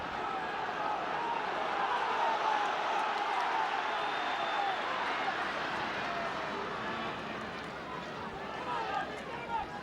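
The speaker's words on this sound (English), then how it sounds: "you can hear the roar as the ball is returned from the crowd, from the Armagh followers here" A football crowd roars at a 2012 Ulster quarter-final between Armagh and Tyrone, with Armagh supporters giving a steady, distant wash of cheering throughout and no clear talk on top.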